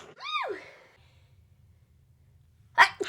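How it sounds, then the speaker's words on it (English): A single sharp sneeze bursts out near the end, loud and close, after a stretch of quiet room hum; a rising voiced sound comes just before it. "I'm gonna sneeze."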